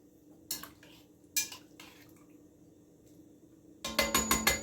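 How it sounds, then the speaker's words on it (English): Meat and its juices stirred in a pan for a chuck shoulder roast: a few sharp metal clanks spaced apart, then a rapid run of loud scraping knocks at the end, close and otherwise quiet, with no one talking. "So we just stir a little bit"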